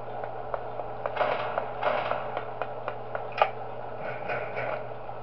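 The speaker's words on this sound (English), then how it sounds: "I just closed both doors just to be safe." Security doors in the video game Shadow Chaos Pizzeria slide shut with a grinding, ratcheting mechanical rattle and creaks, moderately loud over a steady low hum.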